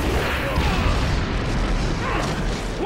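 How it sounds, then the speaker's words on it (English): The Phoenix Fire Jutsu in Naruto Shippuden: Ultimate Ninja Storm 4 sounds as a loud, continuous whooshing roar of flames that fills the whole moment without letup, with no voices. "Fire style! Phoenix Fire Jutsu!"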